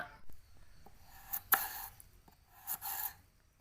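Knife chopping raw native papaya into small pieces, a few crisp cuts in short bursts with quiet pauses between, close and moderately loud.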